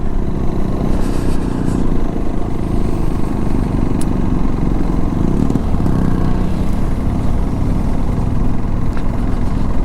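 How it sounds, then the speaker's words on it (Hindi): Motorcycle engine labouring uphill on a Ladakh mountain road, struggling under load in second gear; a loud, close, continuous low engine drone with wind and clatter, no talk. "बाइक को लोड लेने में डेफिनेटली दिक्कत हो रही है।"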